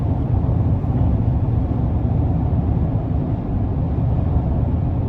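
A 2022 Chevrolet Silverado 1500 LTZ cruises on the highway at about 75 mph, with a steady low rumble of engine, tires and road noise filling the cabin, even and continuous with no talking.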